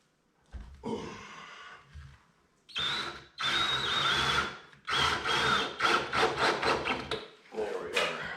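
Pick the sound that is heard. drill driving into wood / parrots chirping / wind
drill driving into wood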